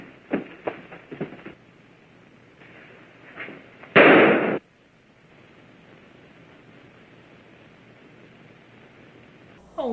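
A single loud gunshot bursts out of a movie soundtrack after a few quieter thumps, then gives way to a low steady hiss before another sharp sound at the very end.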